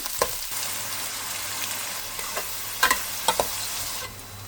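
Chopped onion and green chillies fry in hot oil with a steady, dense sizzle, punctuated by a few sharp clicks of a spoon stirring the pan, for a fish pulusu.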